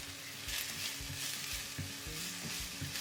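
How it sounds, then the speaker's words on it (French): Sliced onion sautés in a little olive oil in a sauté pan, giving a quiet, even sizzle under soft stirring and scraping, with no voices. "je commence par émincer un oignon que je fais revenir dans une sauteuse avec un petit peu d'huile d'olive"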